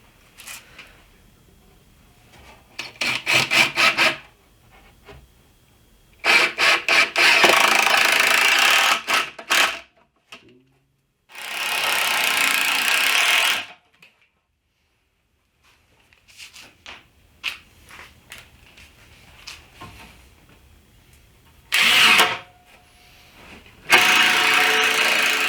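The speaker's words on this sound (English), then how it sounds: "I'm just going to drive some 3-inch screws." A power drill drives 3-inch screws into the wooden perimeter of a DIY bed frame, loud whirring bursts of varying length with pauses between them.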